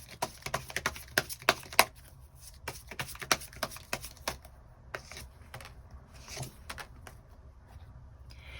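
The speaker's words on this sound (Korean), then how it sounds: "추가 카드로 내가 이번 2월을 더 잘 살아가기 위한 조언의 카드 뽑아보도록 하겠습니다" Tarot cards are shuffled and drawn, giving a run of quick, crisp card flicks and taps close by, thinning into softer sliding and rustling toward the end, with no talk.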